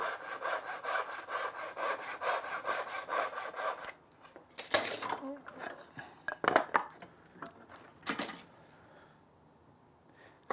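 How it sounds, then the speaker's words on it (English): A hand saw cuts off dovetail waste ends from a board clamped in a vise, making rapid rhythmic rasping strokes up close, followed by scattered knocks and handling clatter as the cut finishes. "Now put it in the vise this way, and we'll cut these ends off here."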